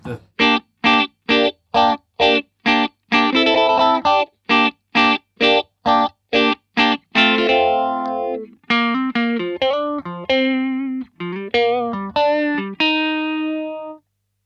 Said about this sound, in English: So amazing phaser, super quiet, so you can stack it into overdrives